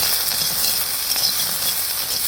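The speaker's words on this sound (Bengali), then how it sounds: "তেলটা গরম করে নিলাম, এখন আমি আলু দিয়ে নিচ্ছি। হলুদ লবণ দিয়ে নিলাম, আলুটাকে আংচে নেব।" Potato pieces fry in hot oil with turmeric and salt, giving a steady, loud, close sizzle with a fine crackling hiss throughout and no voices.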